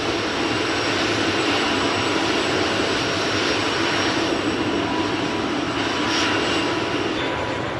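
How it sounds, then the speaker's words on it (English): A loud, steady turbine whine and roar of helicopter engines revving at high power, constant and close throughout. "My engines are revving faster and faster and faster!"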